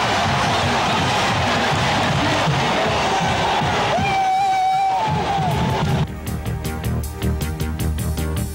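A sellout Penn State stadium crowd roars and yells as the team runs out of the tunnel after the band's pregame show, with a sustained loud cheer and whoops, then band music breaks in near the end.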